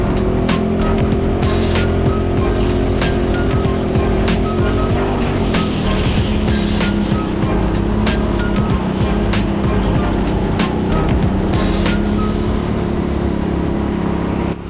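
A rental racing go-kart from a new fleet screams around an indoor TeamSport track in Sheffield during a competitive race, its engine droning loud and close with pitch swings through corners, sharp tyre squeals and other karts passing.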